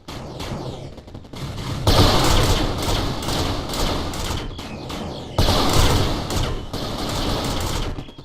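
Booming thuds and crackling blasts from the Scorch tank in the video game 8-Bit Invaders hit troops repeatedly in loud bursts, with sustained fire between the heavier hits. No one speaks.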